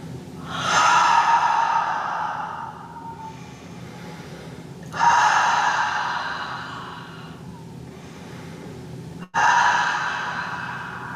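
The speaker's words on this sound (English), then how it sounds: "So as you're ready, 3 deep breaths in." Three slow, deep breaths during a guided crystal meditation, each a long, close inhale-exhale swelling and easing off, separated by short pauses with no talk.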